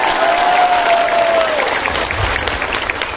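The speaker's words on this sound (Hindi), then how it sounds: "ताली मारो इसके लिए भी" Loud, sustained applause from an audience at a political gathering in Khowai, Tripura, dense clapping throughout with a faint tone running through the first half.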